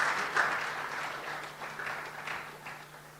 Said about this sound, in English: Please, a round of applause for all our recipients.